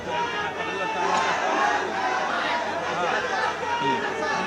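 A crowd of people gathered at a political rally, with dense overlapping chatter and murmuring voices, a few raised shouts rising above the steady, close and fairly loud hubbub.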